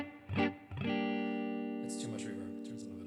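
Effects-processed tone from a Boss RC-600 or RC-300 loop station with heavy reverb, a sustained harmonic sound swelling after a short attack and ringing on steadily, fairly loud and drenched in echo, with a voice in the background.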